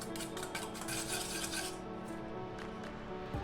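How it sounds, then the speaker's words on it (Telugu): A utensil scrapes and clinks rapidly against a bowl while beating a spiced egg mixture with salt for KFC-style fried chicken, steady and close, quieter toward the end. "ఇప్పుడు మనం దీన్ని బాగా బీట్ చేసుకుందాం"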